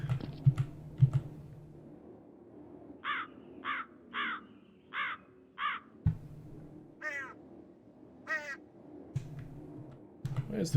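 Crows cawing on a Counter-Strike map, several harsh caws in a row, mid-distance and clear, alongside soft keyboard typing and clicks.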